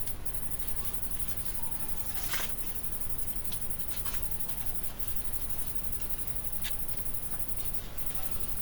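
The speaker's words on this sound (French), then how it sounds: "Vous entendez les petits grillons?" Small crickets chirp at night in the French countryside, faint and steady against a soft hiss of background noise, with a few brief clicks scattered through.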